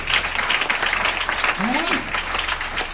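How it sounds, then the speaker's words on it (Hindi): A gathered audience claps together briefly, a dense patter of hands with a voice rising over it partway through. "सबकी एक बार ताली होनी चाहिए।"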